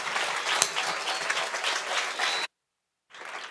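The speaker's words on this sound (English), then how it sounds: "Another round of applause." A lecture audience breaks into sustained applause, dense clapping that cuts off abruptly and then resumes after a short silence.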